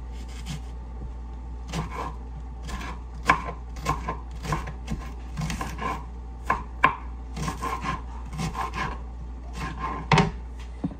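Knife chopping tomato on a cutting board, a run of sharp, irregular close-up chops with brief pauses, steady and alone with no talking.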